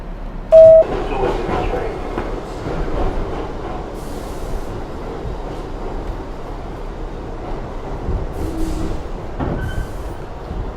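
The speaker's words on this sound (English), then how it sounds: "This is the South Ferry Bound 1 train." A South Ferry-bound 1 subway train in New York rumbles steadily along the tracks near Chambers Street, with a brief high squeal near the start and low mechanical noise throughout.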